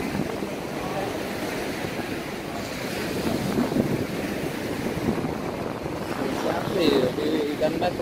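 Strong ocean surf rolls onto the shore at Vũng Tàu on a windy morning, a loud, continuous wash of breaking waves mixed with heavy wind buffeting the microphone, with voices faintly present underneath.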